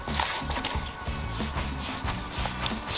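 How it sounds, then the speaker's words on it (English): Hand sanding of a wooden Jaguar XJ6 dashboard with fine 1500-grit sandpaper, giving a steady rhythmic rubbing scrape with repeated back-and-forth strokes, close up and fairly quiet. "We're sanding it down"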